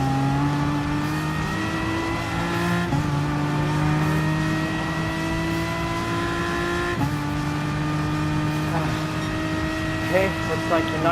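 Race cars lapping a circuit in the video game Gran Turismo Sport, BMW M6 among them, with steady sustained engine drone, pitch climbing through gears and dropping at shifts, continuous and fairly loud beneath commentary.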